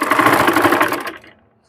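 A sewing machine stitches a checked lungi, a fast, close mechanical whirring chatter of the needle running steadily for about a second before stopping and trailing off into quiet.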